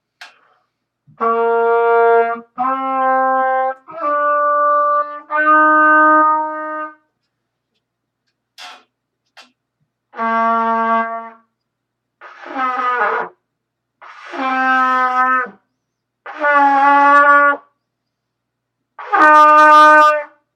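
A trumpet plays a series of sustained tones in separate phrases, each note stepping higher, with short breaths and pauses between them.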